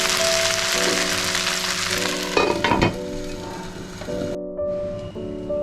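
Sabudana and potato khichdi with yogurt cooks covered on a low flame, giving off a steady, close sizzle with light bubbling and a few faint clinks throughout.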